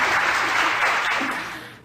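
Applause from a studio audience greeting the debut of a television interview host, a dense, steady burst of clapping that stays loud and then tapers slightly at the end.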